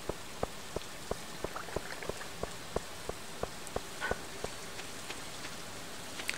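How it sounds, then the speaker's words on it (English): Rain falling in the farming game Stardew Valley: a soft, steady patter with regular light droplet ticks repeating at an even rhythm, quiet and continuous with no voices. "it's raining all the time"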